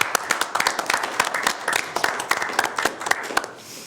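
A small group claps for a staff member named Krista at a regional sanitation district board meeting: a short round of sparse, uneven handclaps with distinct individual claps, close and moderately loud, ending after about three and a half seconds.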